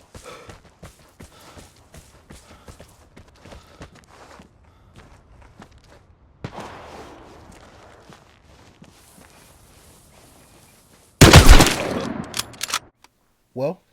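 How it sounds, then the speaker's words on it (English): Gunfight in the video game Vigor: quiet footsteps and light movement for several seconds, then a sudden loud burst of rapid gunfire followed by a final short shot, with a voice murmuring early on. "there's a whole gunfight near me"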